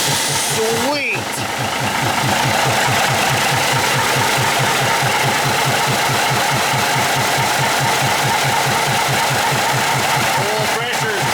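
A 1953 GE locomotive diesel engine runs steadily up close, a loud, even rhythmic chugging throughout with brief mechanical whines near the start and end.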